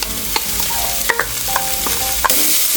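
Onions and corn kernels sizzling loudly in a pot while being stirred, with a continuous crackle broken by a few clinks and scrapes of the spoon.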